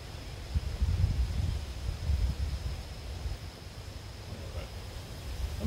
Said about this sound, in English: Wind is headwind, big time.